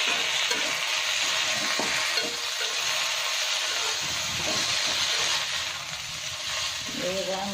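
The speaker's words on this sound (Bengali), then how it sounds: "চিংড়ি শুটকিও ভেজে নেব শিমের সাথে।" Boiled flat beans frying with dried shrimp in a pan, a steady close sizzle and hiss throughout with occasional stirring scrapes, no talk over it.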